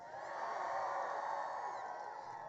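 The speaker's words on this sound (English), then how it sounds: "This looks like a beautiful crowd that's excited and ready to take our country back." A rally crowd in North Carolina cheers and whoops together in a broad, sustained roar that swells and eases slightly, heard at some distance without clear individual voices.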